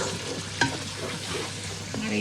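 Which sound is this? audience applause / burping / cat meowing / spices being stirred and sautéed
spices being stirred and sautéed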